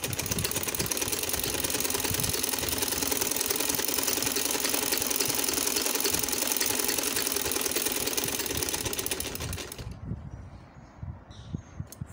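A sewing machine stitches a trouser seam in a fast, steady mechanical whir for about ten seconds. It then stops, leaving quiet handling noises.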